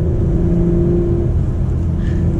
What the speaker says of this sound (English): You get that nice rev on downshift